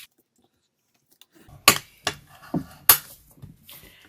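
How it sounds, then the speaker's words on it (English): Vellum paper folded and burnished, heard as a few sharp separate creases and rubbing strokes, close and fairly quiet, with quiet gaps between them. "let's go ahead and fold and burnish this first"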